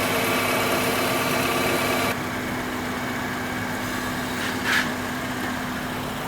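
A Honda Civic engine idling with an oil leak at the VTEC solenoid, giving a steady low hum that drops slightly in level partway through and carries on evenly.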